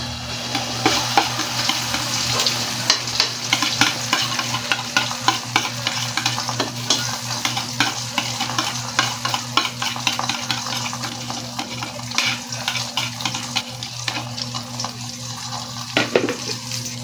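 Leftover beaten egg with onions sizzles steadily in a pan, with close, repeated scraping and stirring strokes over a constant frying hiss and a low hum.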